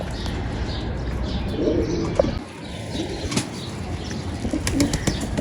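Pigeons coo softly in an enclosed space, with a brief flutter of wings and faint rustling in the background.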